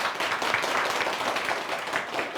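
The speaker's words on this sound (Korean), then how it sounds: "격려의 박수 한번 해주시기 바랍니다" A church congregation claps in encouragement for a deacon undergoing chemotherapy, a steady, moderately distant patter of many hands sustained without pause.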